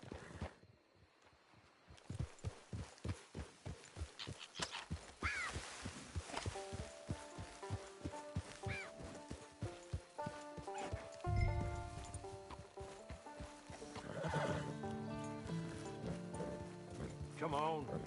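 Horse hooves walking in a PS4 video game, a steady clip-clop of hoofbeats near a camp, heard under character dialogue and soft background music.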